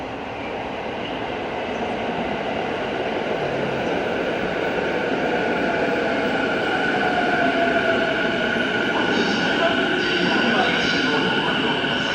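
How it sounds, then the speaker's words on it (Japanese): Commuter train pulling into a station platform, a broad steady rolling roar that swells slightly as it nears, with a voice announcement over it. "まもなく一番線に各駅停車海浜幕張行きが参ります。"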